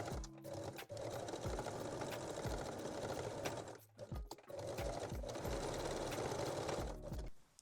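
Sewing machine running straight stitches back and forth to secure bikini top straps, loud and close, in two long bursts separated by a brief pause, with short stops and restarts for reversing.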